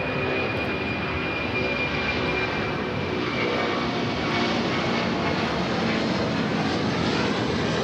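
Boeing 767-300ER in a retro livery taking off from runway 25 Left at Los Angeles International Airport, a loud, steady jet-engine roar that holds throughout.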